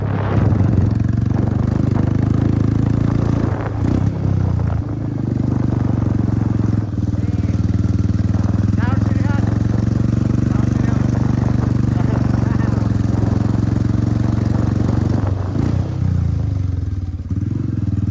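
A Royal Enfield Bullet motorcycle fitted with an Akrapovič exhaust rumbles close by with a deep, steady thump, throttle shifting only slightly, while people talk over it.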